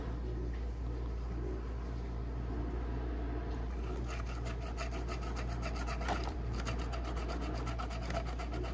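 Hand drilling through a plastic HO-scale Walthers passenger car body, a steady fine rasping and rubbing that continues throughout, growing brighter and scratchier midway, close and fairly quiet with no talk.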